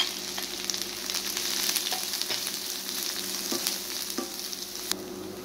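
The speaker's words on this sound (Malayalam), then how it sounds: "കടുക് ഒന്ന് പൊട്ടുമ്പോൾ സവാളയും കരിവേപ്പിലയും ഇട്ട് ഒന്ന് വാട്ടിയെടുക്കാം" Sliced onion and curry leaves fry in hot oil after mustard seeds have popped, a continuous close sizzle with occasional sharp taps and scrapes of a stirring spoon.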